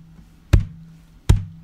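Two hard, hollow thumps come from a palm striking an acoustic guitar body to imitate a kick drum. They are close and fairly loud, about three-quarters of a second apart, with quiet room tone between them.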